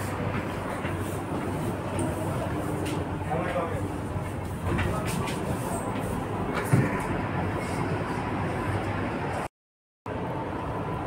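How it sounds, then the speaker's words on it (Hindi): Steady rumble of a Delhi Metro train in motion fills the clip, a continuous rolling roar with faint rattles and a brief dropout near the end. "अभी हम लोग चढ़ गए हैं मेट्रो पे।"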